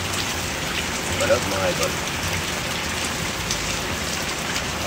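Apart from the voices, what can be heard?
heavy rain falling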